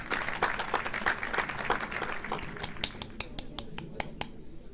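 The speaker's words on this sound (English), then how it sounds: "That was a fast applause." A short burst of crowd applause in a video game, with dense clapping that thins into a few scattered sharp claps before fading out.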